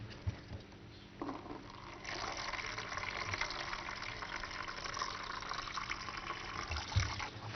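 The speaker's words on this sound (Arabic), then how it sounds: "نزود حبه ميه بقى عشان تاخد وقتها" Water is poured into a pan of food cooking on the stove. A steady gushing wash begins after a quiet second and continues at a moderate level to the end, with no talk.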